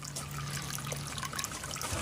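Dark first runnings of homebrew wort trickle out in a steady, close stream of liquid splashing and dribbling.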